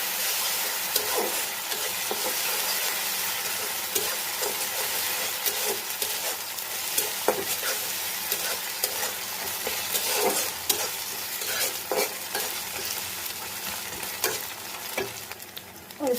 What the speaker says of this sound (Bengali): ভালোভাবে আদা রসুন আর ডিম একসাথে ভেজে নিই।